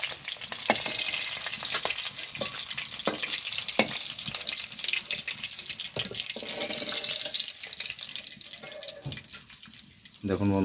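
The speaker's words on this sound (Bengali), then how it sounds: "মাছগুলো খুব কড়া করে ভাজবো না, একটু হালকা করে ভাজবো।" Rohu fish pieces frying lightly in oil give a steady, fairly loud broadband sizzle with watery crackle throughout, broken by occasional sharp clinks of a spatula or utensil.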